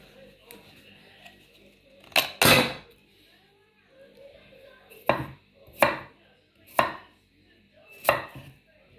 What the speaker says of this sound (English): I'll add some footage of me cutting up stuff for the tortoises.